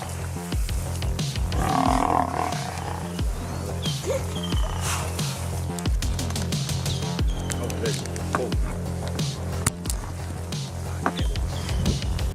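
A lion roars in the wild amid other animal growls and snarls, loud and close, with deep repeated rumbling bursts and sharp cracks scattered across the scene.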